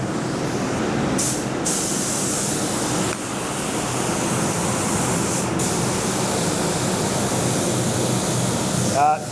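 Spray gun laying primer onto a car panel in a workshop: a steady, loud hiss of atomised spray runs throughout, with a few brief higher bursts and a short break near the middle.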